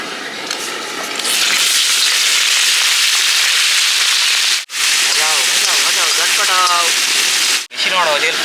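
Shrimp dropped into hot oil, giving a loud, steady sizzling hiss that rises sharply and then crackles on, briefly cut out twice.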